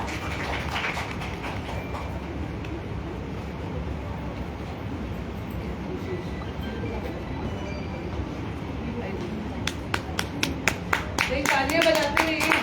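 An audience at a women's award ceremony claps in a dense, steady patter throughout, with sharper, louder claps bursting in near the end.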